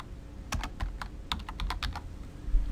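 Close, crisp keystrokes on a computer keyboard while entering a name into a search field, about a dozen clicks in two quick bursts with a short pause between them, alone with no talking.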